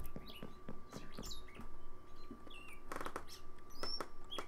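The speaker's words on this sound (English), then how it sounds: "There's a bunch of loud birds outside." Birds chirping outside, a busy flurry of short high chirps and tweets over a faint steady hum, no voices.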